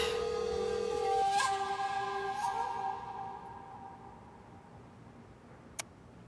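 A telephone being dialed in a Turkish drama dubbed in Urdu: a series of tonal beeps and a longer tone in quick succession, fading into a hushed room with a single sharp click near the end.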